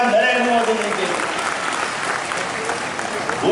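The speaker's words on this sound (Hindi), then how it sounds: "और जोरदार ताली बजाएं नरेंद्र मोदी जी के लिए" Loud, sustained applause from a large crowd fills the whole stretch at a temple consecration ceremony for a Ram Darbar at a Hanuman temple in Nagda, a dense unbroken wash of clapping.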